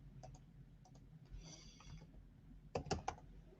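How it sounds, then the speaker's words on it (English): Computer keyboard keys tapped in a few quiet, close bursts of clicks, with a brief faint whir between them and a quicker cluster of keystrokes near the end. "So I can come in here and I can type in"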